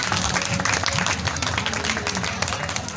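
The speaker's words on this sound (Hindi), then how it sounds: "जोरदार तालियां" Loud, close applause from guests at a wedding ceremony, busy overlapping clapping mixed with crowd murmur and voices throughout the short burst.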